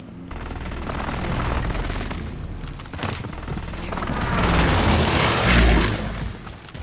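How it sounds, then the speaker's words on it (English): Airstrike explosions in a video game, a sustained run of deep booming blasts that swell and peak near the end, loud and rumbling with no talk over them. "Bringing down an airstrike."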